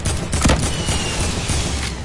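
Gunfire in the video game Fortnite, a brief loud crackling volley with a heavier blast near the start and sustained rattling noise throughout, with no speech.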